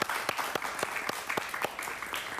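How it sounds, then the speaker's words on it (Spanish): A small studio audience claps for Venezuelan political analyst Aquiles Esté on a talk show, with sparse, distinct individual claps in an uneven rhythm, fairly close and moderately loud. "Un aplauso para él, por favor."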